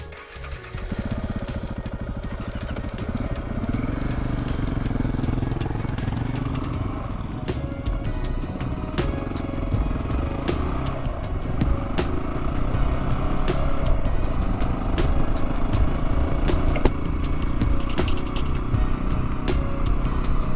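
Dual sport motorcycles ride off-road through the Tucson desert outback. A loud, steady engine roar rises and falls with throttle changes, and rough clattering comes from the trail throughout.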